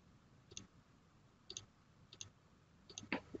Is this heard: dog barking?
no